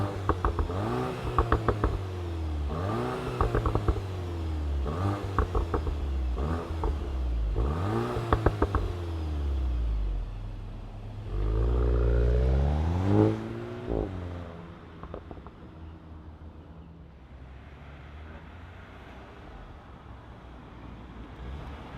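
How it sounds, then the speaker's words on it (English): A 2025 VW Golf GTI SE Mk 8.5 turbo four-cylinder revs repeatedly in short rising blips, then gives one longer, louder rev and settles into a quieter, steady idle. "let's fire up this GTI and hear if it makes any sound"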